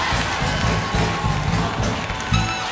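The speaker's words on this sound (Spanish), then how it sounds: "dale un aplauso" Church congregation applauding and cheering during a Spanish-language sermon, a dense wash of clapping and crowd noise with rhythmic low thumps, fairly loud and continuous.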